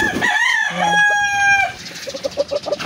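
A rooster lets out a loud, drawn-out crow up close, followed by a run of quick, chattering clucks from chickens.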